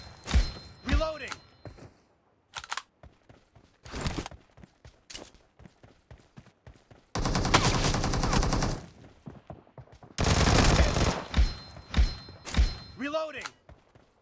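Gunfire in PUBG Mobile, a sniper-focused match: sharp, loud single shots with ringing tails, punctuated by two dense bursts of rapid fire, close and punchy, with brief game voice callouts between.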